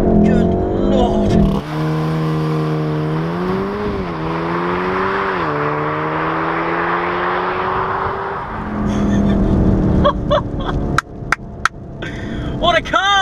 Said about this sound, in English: Plant your left foot, plant your right foot, makes that amazing noise.